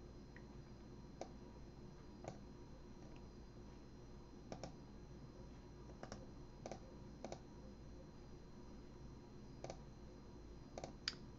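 Steady computer keyboard typing with scattered sharper clicks, close and fairly quiet, no talking, continuing throughout.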